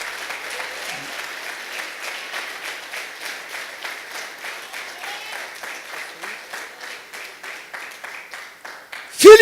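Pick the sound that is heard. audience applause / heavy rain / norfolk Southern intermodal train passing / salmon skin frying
audience applause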